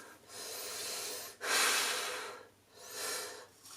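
Breathing through a tight-fitting 3D printed face mask, close and hushed: a slow inhale, a louder rushing breath, then another softer breath.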